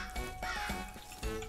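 A crow caws in the ZERO Sievert video game, giving a few harsh, nasal calls in quick succession at moderate volume over a steady ambient hum.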